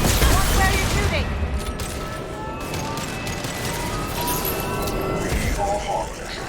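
Rapid gunfire bursts from the game Mass Effect Legendary Edition crackle continuously under a busy mix of in-game voices, effects and spoken dialogue, loud and dense throughout.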